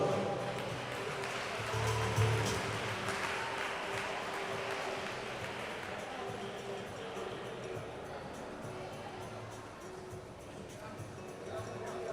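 Applause fills an indoor pool hall at a Galician winter masters swimming championship for a relay team that set a regional record in the 4x50 medley. The clapping is soft and distant, with a voice talking over it.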